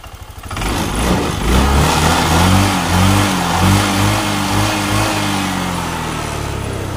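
A Honda Click 125 scooter that kept losing coolant and overheating runs after a top overhaul. After a brief sputter the engine settles into a loud, steady, close-up running note.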